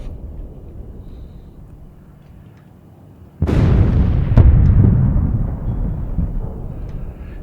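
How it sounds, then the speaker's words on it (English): A missile explosion over Herzliya Marina in Israel booms suddenly after a quiet stretch, a heavy distant blast followed by a second thud and a long rolling rumble that slowly fades. "Maybe you can hear the explosions."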